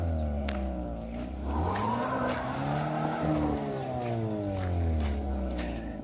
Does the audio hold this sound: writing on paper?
no